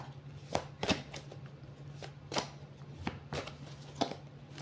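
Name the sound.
shuffling oracle cards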